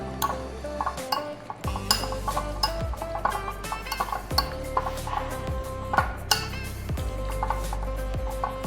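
Washed prawns are tossed with salt and turmeric in a bowl, producing a steady run of light knocks and clinks against the bowl's sides. It is close and moderately quiet, with no voices.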